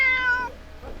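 A single clear cat meow, close and fairly loud, falling in pitch and fading within half a second, in a village in Singapore.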